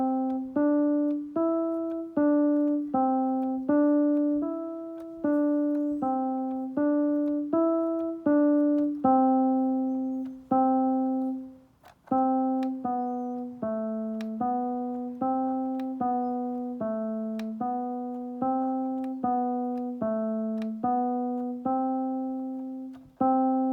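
Beginner piano practice piece played with both hands, a steady run of clear single notes with a bass line, moderately loud and alone apart from a brief pause midway.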